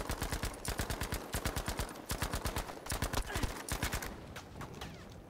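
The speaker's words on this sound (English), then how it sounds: "Show to me why you were the Germany's finest submachine gun." A German MP40 submachine gun fires in Battlefield V desert combat. Rapid, loud bursts of shots come in several rhythmic strings, with short pauses between them.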